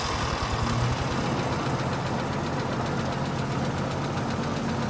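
Vehicle engine running at a steady idle, a continuous loud rumbling drone with a rough knocking pulse early on, close and with no talk.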